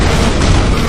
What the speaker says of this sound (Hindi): धमाका इतना जबरदस्त था